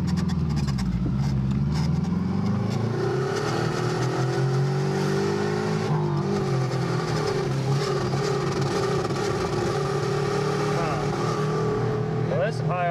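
Subaru EA82T turbocharged engine on a GL-10 revving at high RPM with timing advanced, a loud sustained roar with rising and falling pitch throughout, while people talk over it.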